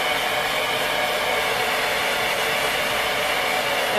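A hair dryer roars steadily and loudly at close range for the whole stretch while rough drying hair, a constant airy blast with no talking.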